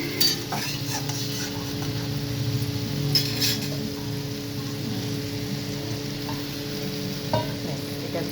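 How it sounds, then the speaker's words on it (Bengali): Mustard paste for shorshe ilish bubbles and simmers in a pan, a steady low sizzle with a few faint clinks of utensils, close and fairly quiet. "মিশ্রণটি ভালো করে ফুটে উঠেছে দেখুন"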